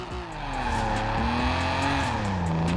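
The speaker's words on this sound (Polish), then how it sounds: "patrz, wchodzę sobie tutaj w drift." A car drifts in Forza Horizon 4 with a long continuous tire squeal over a steady engine drone, loud and close, the squeal pitch wavering and bending throughout with no gaps.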